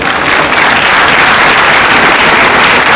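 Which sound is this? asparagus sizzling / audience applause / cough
audience applause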